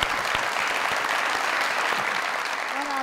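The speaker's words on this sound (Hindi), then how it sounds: "तालियां।" A studio audience at a comedy talk show claps in a dense, sustained burst of applause that stays loud and even throughout, with a brief voice surfacing at the end.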